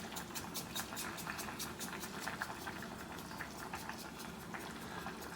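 Canned green beans boil in a pot on the stove, a soft, steady bubbling and popping with rapid patter that stays faint and even throughout, with no voices.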